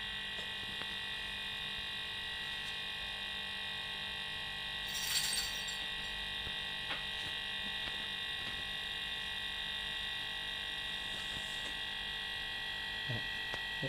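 Steady mechanical hum with tonal bands from a noisy air conditioning compressor running in a Mercedes-Benz S280 with leaking refrigerant lines, heard close and continuous with a brief louder burst midway.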